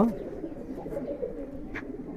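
Low, soft cooing from Giribaz racing pigeons, a steady murmur close by with faint background noise and no talking.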